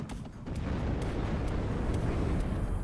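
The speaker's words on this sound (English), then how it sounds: "That looks like some mortars firing there" Mortar fire in the WARNO real-time strategy game, a steady dense rumble of low booms and distant blasts with faint sharp cracks layered over a continuous battlefield roar.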